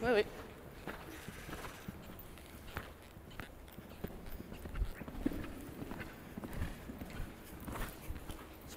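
A horse walking in a riding lesson, its soft hoof falls landing in an irregular rhythm on arena footing, faint, with an instructor's voice talking over them.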